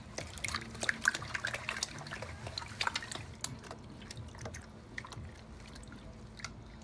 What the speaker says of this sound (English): I can pan this first part off pretty fast.